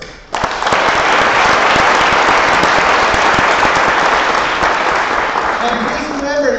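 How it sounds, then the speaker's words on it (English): An auditorium audience at a university programming contest awards ceremony bursts into loud, dense applause for the sponsors, starting abruptly and holding steady for several seconds, with a voice briefly audible near the end. "let's give a round of applause to all the sponsors"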